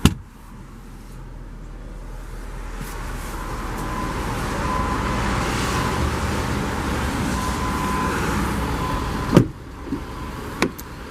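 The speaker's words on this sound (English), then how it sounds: "This has to be the quietest diesel engine I've ever been around." A 2012 Ford F-250 King Ranch 4x4 with the 6.7-liter diesel idles steadily as a quiet, even low rumble throughout, with a couple of brief sharp clicks or knocks near the end.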